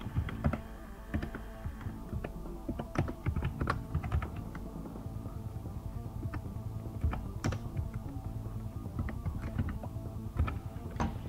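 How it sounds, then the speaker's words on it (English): Rapid, close-up keystrokes clatter continuously on a computer keyboard as numeric values are entered into a Photoshop dialog, with irregular loud taps and no voices. "just put these values in here that I'm gonna type"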